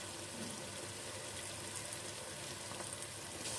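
Garlic paste and masala fry in a pan for a Punjabi aloo matar curry, giving a steady, close, broadband sizzle that stays constant throughout with no talking.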